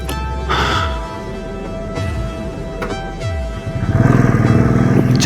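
A motorcycle rides a mountain road in Ladakh near Hanle, its steady engine hum running under wind with a few faint clatters, rising in loudness toward the end.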